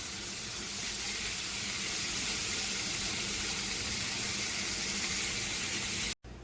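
One and a half pounds of ground hamburger browning in a pan, a continuous loud hissing sizzle close by with no voices, cut off abruptly near the end.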